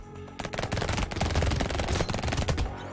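Rapid submachine gun fire in the game Brotato, dense continuous rattling bursts close and loud after a brief quiet start, with several weapons firing at once.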